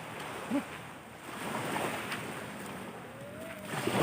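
Waves wash and break steadily along the shore, with a breezy, rushing roar swelling toward the end and faint wind noise throughout.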